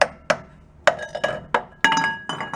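Tapping on an engine valve cover to break it loose from its sealer: a series of about eight sharp, close metallic clinks at an irregular pace, each ringing briefly.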